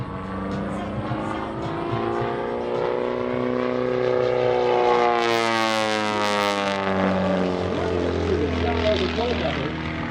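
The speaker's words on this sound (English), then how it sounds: "This airplane, high performance, and has an amazing thrust-to-weight ratio, giving Chef the recipe to go into some of these amazing maneuvers" High-performance aerobatic propeller airplane flying maneuvers at an airshow, a loud sustained engine drone with a sweeping pitch change as it passes overhead, while an announcer talks over it.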